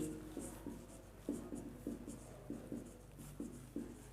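Someone writes on a board during a lecture on circular membrane vibration. Faint, quiet scratching strokes come in short, regular bursts, with no talking over them.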